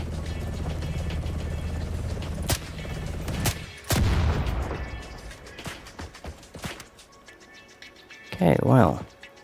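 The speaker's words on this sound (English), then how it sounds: "Who was shooting at me?" Sharp bursts of Roblox video game gunfire ring out, a few separate cracks and a longer rattle, with a deep boom near the end amid game noise.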